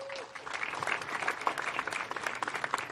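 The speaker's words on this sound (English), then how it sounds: "one big fun round of applause for your Mini 60" A crowd applauds at a kart racing prize-giving for the Mini 60 under-10 class in Al Ain, a steady wash of many hands clapping throughout, moderately distant, with a faint voice briefly at the start.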